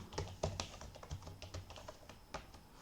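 C++ code is typed on a computer keyboard in short bursts of close, crisp key clicks, faint overall and irregular in rhythm, without any voice.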